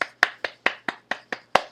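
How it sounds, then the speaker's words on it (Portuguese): Round of applause during a chemistry review class: eight crisp, evenly spaced hand claps in a steady rhythm, close and distinct, each sharp attack followed by a short decay, with a faint hum underneath and no talking. "Uma salva de palmas."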